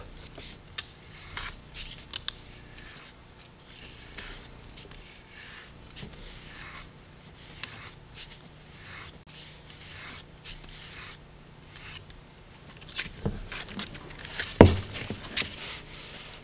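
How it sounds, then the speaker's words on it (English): Medium grit sandpaper rubs along the edge of a model rocket tunnel cover in steady, repeated close strokes, ending with a sharper knock near the end. "We're going to carve these using sandpaper."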